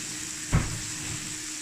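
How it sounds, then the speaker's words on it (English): Tomatoes hit hot pork fat from guanciale in a pan: one sharp splash-thump, then a soft steady sizzle continuing close by, no talking. "that is your tomatoes cooked in your really hot oil, or in this case, my fat on the pork"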